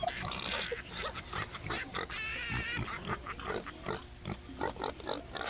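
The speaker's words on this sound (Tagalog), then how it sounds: "Sinama ko kasi yung baboy namin dito sa studio eh." A pig brought into a radio studio grunts and snorts repeatedly in short, uneven bursts, close and fairly loud, with a brief squeal partway through.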